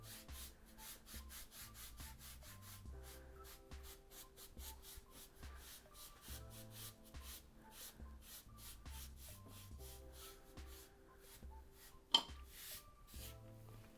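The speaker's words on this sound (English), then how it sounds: "I'm gonna brush off all my excess flour." A brush sweeps excess flour off rolled cookie-like pie dough about an eighth of an inch thick, soft repeated rubbing strokes in a rhythmic back-and-forth pattern, faint and close, with one sharp tap near the end.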